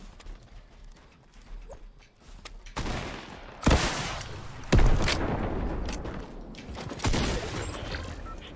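Flintlock pistol shots in a video game, a few sharp loud cracks among rushing, rumbling game noise, with quieter background sounds before them.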